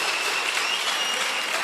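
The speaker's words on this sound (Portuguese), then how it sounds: "vamos aplaudir o Senhor por isso" A church congregation claps together during a packed evening service, a steady wash of applause at moderate volume with no voices on top.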